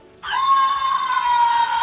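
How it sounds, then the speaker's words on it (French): A screaming yo-yo toy bought at the Harry Potter theme park gives out a loud, sustained shrill tonal scream that starts abruptly and holds steady for nearly two seconds, close and alone. "c'est un yo-yo hurleur"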